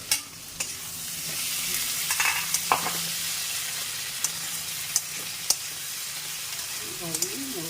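Potatoes fry and get stirred in a pan on a home stove. A steady, hissing sizzle runs throughout, with a few sharp clinks and scrapes from the stirring utensil.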